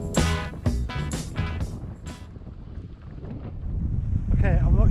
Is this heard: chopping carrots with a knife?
no